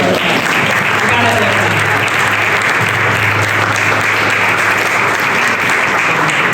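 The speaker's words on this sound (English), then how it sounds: "Let's give a round of applause for" Loud, sustained applause from an audience, dense clapping filling the whole stretch without pause.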